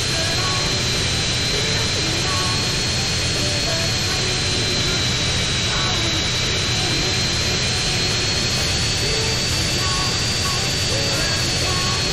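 A jet plane engine in GTA San Andreas roars continuously and loudly with a steady high whine over broad rushing noise, holding constant throughout.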